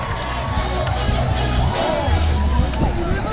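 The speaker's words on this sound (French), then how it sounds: "des applaudissements pour ton équipe" A large crowd roars and cheers steadily, with a dense wash of noise and scattered shouts; no distinct clapping stands out.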